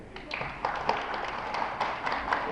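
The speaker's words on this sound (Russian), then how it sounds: "Прошу ваши аплодисменты." An audience at the opening of a nature tourism competition claps, a brief patter of scattered hands at moderate volume that builds into uneven applause over a couple of seconds.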